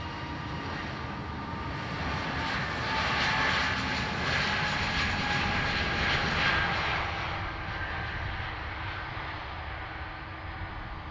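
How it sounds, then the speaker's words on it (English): An Airbus A321XLR departs Dublin Airport for Minneapolis with a sustained jet engine roar that builds mid-clip and then eases slightly, heard at a moderate distance without any voices. "EIXLU, one of the XLRs off to Minneapolis"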